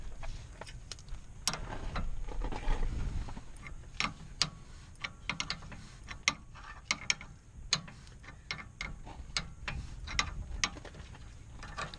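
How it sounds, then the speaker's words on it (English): An open wrench tightening the tie rod end on a Nissan 350z drift car, heard as faint intermittent metallic clicks and ticks, sparse and irregular over a quiet garage background. "I'm gonna go ahead and tighten this end of the tie rod"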